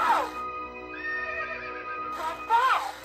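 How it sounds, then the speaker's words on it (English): Synthesized horse whinny from a winged Pegasus in the 1994 Tiger Electronics game Mirabelle, two bright neighing bursts at the start and end with a sustained electronic tone between, loud and close. "Nicole arrives just in time to see Mirabelle and Gwendolyn lose control on the Pegasi"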